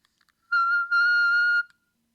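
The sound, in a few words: vocal coach singing a whistle-register note, about F6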